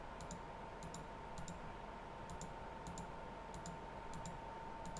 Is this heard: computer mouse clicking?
yes